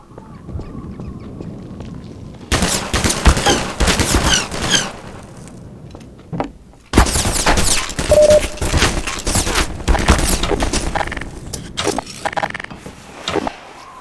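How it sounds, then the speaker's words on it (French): Bursts of enemy gunfire in the Half-Life Lost Coast shooter, two dense loud volleys separated by a short lull, with scattered shots and game noise between them. "Je sais même pas où il tire."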